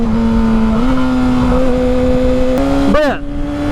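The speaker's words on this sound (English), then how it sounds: "This is Kakarot 2014 Yamaha R6." A 2014 Yamaha R6 sport motorcycle revs while being ridden. The close, loud engine whine climbs in stepped pitch, then sweeps sharply as the revs drop and rise again.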